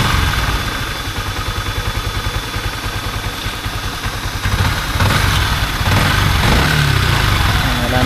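A Yamaha Sniper 155 motorcycle engine idles steadily up close with a low rhythmic throb, getting a little louder partway through, while a person talks over it during a coolant flush.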